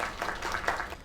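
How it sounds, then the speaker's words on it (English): A short burst of applause from a small crowd, quick overlapping claps at moderate volume with no voices. "Another round of applause."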